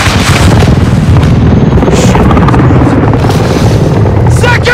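A missile blast hits a helicopter in Call of Duty: Modern Warfare 2, a very loud, sustained booming roar with crackling debris that dominates throughout.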